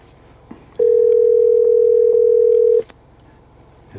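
A phone call rings out as a single steady electronic tone lasting about two seconds, loud and clear against quiet room hum, with no talking.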